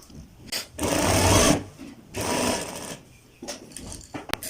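Sewing machine stitches a kalidar kurta in two long runs of steady mechanical whirring, then short bursts with small clicks, close and fairly loud, without talk.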